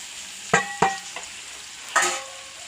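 Chilli, coriander, turmeric and fennel powders frying in a pan over wilted onion and tomato for a chicken potato curry, with a quiet sizzle and three sharp scraping stirs of the spoon.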